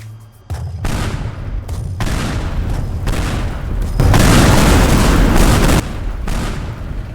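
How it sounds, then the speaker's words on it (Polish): Tank cannon shots in the Teardown video game: a series of heavy, loud booms with broad crashing blasts and debris rumble, one after another over several seconds. "zniszczyliśmy go kilkoma strzałami z czołgu"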